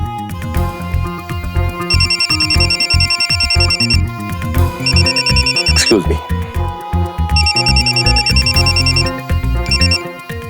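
A telephone rings in a Hindi TV crime drama, sounding in repeated bursts of bright electronic trilling under dramatic background music, with a person's voice briefly heard.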